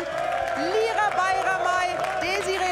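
A TV studio audience applauds three European women's football champions, producing a continuous wash of clapping and crowd noise under music, with a presenter's voice audible.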